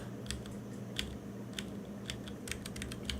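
Keys clack on a computer keyboard in short irregular bursts, close and fairly quiet, over a faint steady background hum with no speech.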